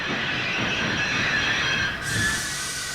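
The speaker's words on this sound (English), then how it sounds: "He screeched to a halt, and poles tumbled all over the track." A steam engine from a children's train story brakes hard on the track, giving a loud, steady grinding rail screech with wheel noise that carries through the whole stretch, with a brief dip near the end.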